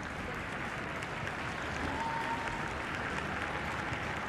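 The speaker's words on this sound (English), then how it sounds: "Nice to hear the applause as they go off the field." Steady applause from a women's rugby crowd at an England versus Italy Six Nations match as Italian players leave the field, broad and continuous clapping throughout with no talk.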